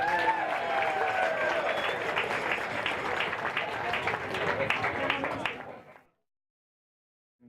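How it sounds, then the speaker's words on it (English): Wedding guests applauding after a blessing over wine, a dense burst of many hands with cheering voices mixed in, steady for about five seconds before fading quickly to silence. "Round of applause for all of them"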